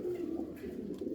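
Chil pigeons, an Uzbek breed, coo in a brief, soft, low rolling call close by, alone without voices.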